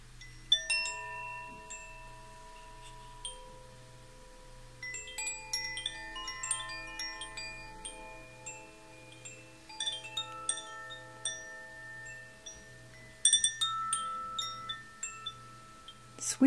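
A melodic chime piece of bell-like tones ringing out in sparkling, decaying notes over a soft pulsing low drone, gentle and close.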